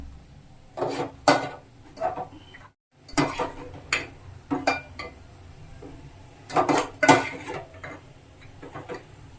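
Cooked prawns are scooped from a pan into a dish, a series of close metal clinks and scrapes in uneven bursts with brief pauses between.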